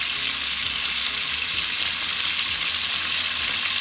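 Food fries steadily in a pan as the base for an easy curry of oxtails with potatoes, a constant close, loud sizzle with a few light stirring scrapes and no talking.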